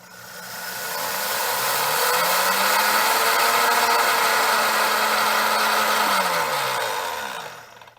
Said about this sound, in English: When we grind the sunflower seeds and the almonds and the cashews, it's almost going to turn to a nut butter